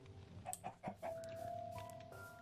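Chickens in the video game Minecraft cluck in a few short, bright bursts close by, followed by a steady tonal game sound over a low background hum.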